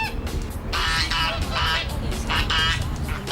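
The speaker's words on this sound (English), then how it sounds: "in the background you can hear the geese honking" Geese honk in the background in several loud, repeated bursts over a steady low rumble, each call lasting about half a second.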